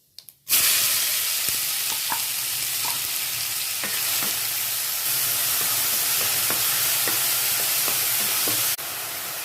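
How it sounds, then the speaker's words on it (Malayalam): Finely chopped onion with cumin seeds sizzles loudly in hot oil in a pan for kadai paneer, a steady close frying hiss that jumps in abruptly at the start, with light scrapes and taps of a stirring spoon throughout. "സവാള നന്നായി വഴറ്റണം."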